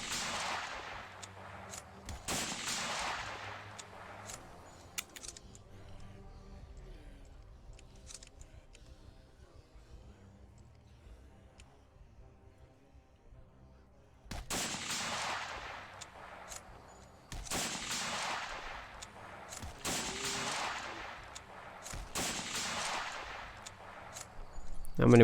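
Video game gunfire comes in several loud bursts of rapid shots, separated by a long quieter stretch of low game ambience in the middle.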